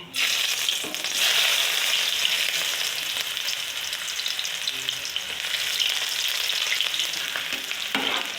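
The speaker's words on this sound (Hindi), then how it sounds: "इधर तड़के के लिए मैंने तेल गरम कर लिया हुआ है। अभी इसमें मैं प्याज डालूंगी।" Onions frying in hot oil for a tadka give a loud, dense, continuous sizzle from start to finish, with a few brief stirring scrapes and knocks, close up and with no talking.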